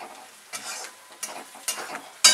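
Crushed garlic, dry coconut and ginger are stirred in a pan, giving a soft sizzle broken by three or four distinct scraping strokes and a sharper clatter at the end. Nobody talks.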